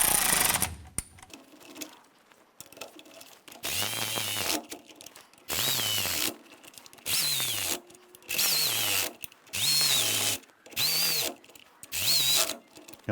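A power tool whirs in seven or eight regular bursts, each rising then cutting off, while it snugs down the bolts on a 1993-1997 Ford Ranger rear differential cover. The sound is close, with short pauses between bursts.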